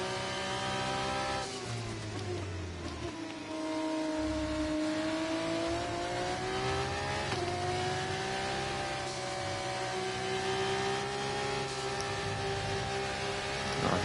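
A Formula 1 race car engine in F1 24 screams on an in lap, a steady high-pitched whine that rises and falls through gear changes, loud and continuous throughout.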